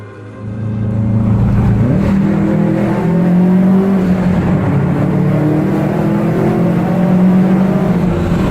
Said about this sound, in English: When he finishes, he decides to really give the car some gas.